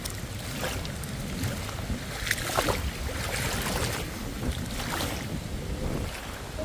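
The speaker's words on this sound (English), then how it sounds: "I know it's windy." Wind sweeps across a lake, rumbling and buffeting an unprotected phone mic in a continuous rough roar with gusty swells, close and fairly loud, no voices.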